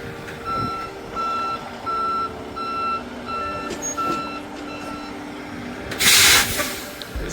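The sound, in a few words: truck reversing during road test backing manoeuvre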